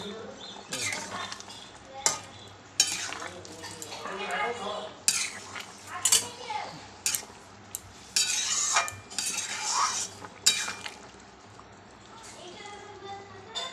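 Lentil fritters being dropped into simmering curry with taro and potato in a cooking pot, scattered metal clinks and scrapes of a utensil against the pot over soft bubbling, with someone talking between the clatter.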